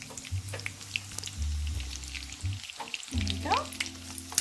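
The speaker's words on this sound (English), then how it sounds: "I can smell that coconut toasting in there and the oil." Coconut-crusted fish frying in oil in a pan for tacos, a close, bubbling sizzle with crackling pops and occasional utensil scrapes, and a voice briefly speaking near the end.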